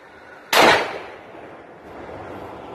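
A Desert Eagle .50 AE pistol fires one loud, sharp shot at an outdoor target, and the blast decays into a long, fading echo.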